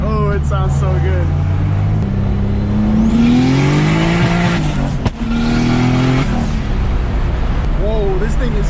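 A turbocharged BMW E30 with a turbo M52 engine, making 515 wheel horsepower, revs hard in a loud, sustained roar with rising pitch and a sharp pop partway through, while people talk excitedly over it.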